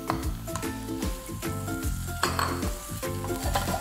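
Grated onion sautés in a pan with a busy sizzle, punctuated by utensil clinks and scrapes against the pan, while tonal background music plays underneath.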